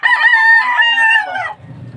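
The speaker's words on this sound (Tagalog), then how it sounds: "Ayan ang ating mga manok." A rooster crows once, loud and close, a long rising-and-falling call, followed by faint low clucking from chickens in a cage.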